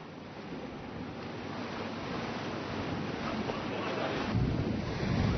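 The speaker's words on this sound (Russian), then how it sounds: "Но мы не спешим, поэтому сели на медленный катер." A slow passenger boat crosses the sea between Qingdao and Huangdao, with a soft, steady wash of waves and wind buffeting the microphone, quiet and continuous throughout.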